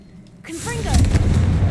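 A Confringo fire spell blast from the Hogwarts Legacy video game, a sudden loud booming burst that swells and rumbles on for over a second, close and dominant.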